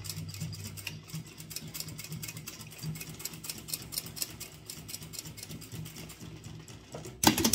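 A sewing machine stitches a seam on a folded fabric strap threaded through a ring for a toilet paper holder, a quiet, steady rapid ticking run for several seconds, ending with a brief louder clunk.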